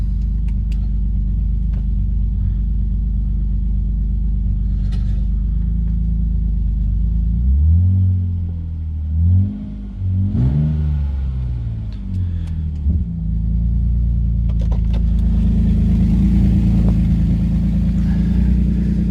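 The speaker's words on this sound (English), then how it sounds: "I ended up cutting the rear exhaust off, because you know the sound that the car makes is far better" A BMW Z car with its rear exhaust section cut off idles with a deep, loud rumble, then revs up and down several times mid-way before settling back to idle, with no talking.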